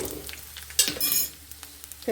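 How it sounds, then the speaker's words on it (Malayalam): Garlic, mustard seeds and sliced shallots tempering in hot oil for an okra curry, a close crackling sizzle with a few sharp pops and spatula scrapes, fairly quiet. "ഒരൽപ്പം വെളുത്തുള്ള ഒഴിച്ച് കടുക് പൊട്ടിച്ച് ചെറിയ ഉള്ളി"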